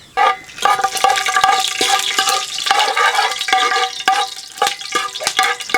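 Cloves, cardamom pods, a star anise and a cinnamon stick hit hot oil with a sudden loud sizzle, then keep frying with steady hissing broken by sharp popping clicks, over a faint tonal background.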